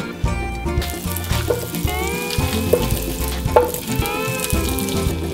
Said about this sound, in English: Right now, what I'm doing is browning butter.